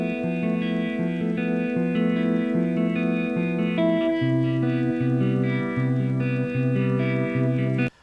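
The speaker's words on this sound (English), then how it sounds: "the tremolo and the reverb, that's built into the amp" An electric guitar played through an amp with built-in tremolo and reverb, sustained chords pulsing in a steady wavering rhythm, loud and close, changing chord midway and cutting off sharply at the end.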